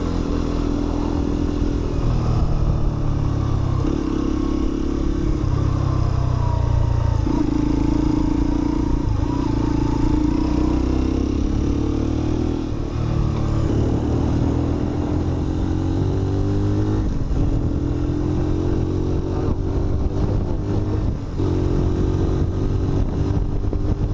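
Keeway RKV 125 motorcycle with a single-cylinder four-stroke engine, a steady close drone that rises and falls through gear changes while riding, no talking.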